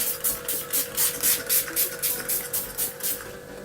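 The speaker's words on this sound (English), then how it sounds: "I'm just gonna use some setting spray" Rapid series of about nine short misty hissing bursts from a Gerard Cosmetics Slay All Day makeup setting spray being pumped, close and evenly paced, with no talking.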